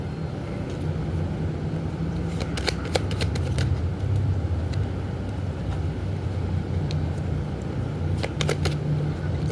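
Tarot cards being shuffled by hand in a steady, continuous riffle and slide, with brief sharper card snaps, over a low, constant background hum.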